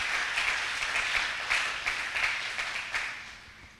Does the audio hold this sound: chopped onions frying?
no